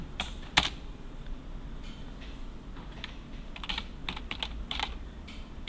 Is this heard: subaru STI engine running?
no